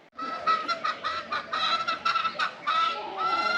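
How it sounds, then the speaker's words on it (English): Several roosters crow and cluck in quick overlapping bursts in the town of Jalpan de Serra, Mexico, fairly close and loud, with no talking. "Oh wow, so many roosters."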